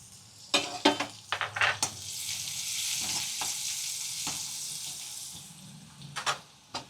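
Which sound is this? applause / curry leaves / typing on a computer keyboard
curry leaves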